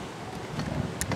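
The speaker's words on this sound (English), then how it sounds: "it's a bit of a windy day today" Steady low wind rumbles and buffets against the microphone at the top of solar panels, with a brief faint clicking near the end.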